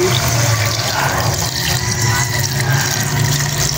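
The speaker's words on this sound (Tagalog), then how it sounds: "So, maglalagay na tayo dito ng tubig." Steady rush of running water being poured into a cooking pot, continuous and fairly loud with no voices.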